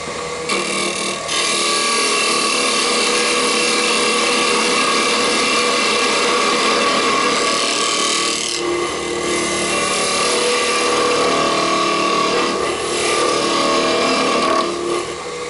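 A wood lathe spins a chess pawn while a tool scrapes and shapes it, producing a loud, continuous whirring rasp with brief dips and surges in the cutting noise, close and without talk.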